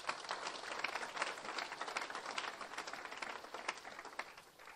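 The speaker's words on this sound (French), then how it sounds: "Applaudissez pour vos prêtres." Faint, distant applause from a crowd at a diocesan pilgrimage honouring its priests, scattered claps blending into a steady patter that fades toward the end.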